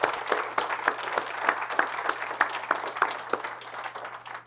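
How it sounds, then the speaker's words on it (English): Applause from an audience at a city State of the City address breakfast, with distinct individual claps audible in a short, moderately close burst that gradually thins out. "Let's give them a round of applause."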